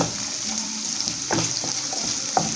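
Onion sizzles gently in a pan with a little salt while sambhar is being cooked, a steady soft frying hiss broken by a few quiet stirring scrapes.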